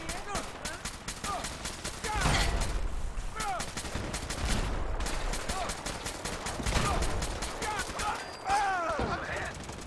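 Gunfire with Gauss rifles in Fallout 4, dense rapid bursts of shots in repeated volleys, loud and close, with mechanical clicks and voices mixed in.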